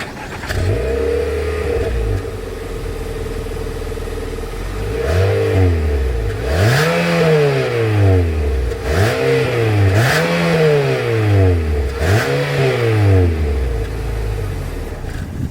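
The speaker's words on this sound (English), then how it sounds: "here is that exhaust clip" A 2025 Nissan Altima engine revs repeatedly through its exhaust, several rising and falling bursts of throttle over a steady idle, loud and close.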